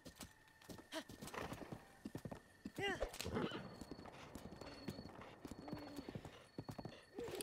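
A horse in Breath of the Wild gallops with rapid clip-clop hoofbeats and lets out one whinny partway through, while a person talks over it.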